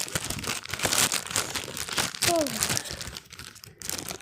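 A plastic rubbish bag crinkles and rustles in irregular bursts during an unboxing, close by, with a faint squeak partway through.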